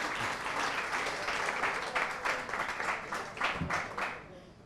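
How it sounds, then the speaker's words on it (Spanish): A room of listeners breaks into applause at a talk on grief, dense clapping building with a few sharper bursts near the end before it fades out. "Muy bien, un aplauso"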